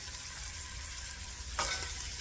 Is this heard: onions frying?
yes